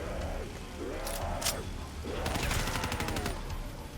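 Gunshots in Black Ops 3 zombies story mode, rapid machine-gun bursts and scattered single shots amid the game's clamor, moderately loud and dense, with one strong rattling burst toward the end.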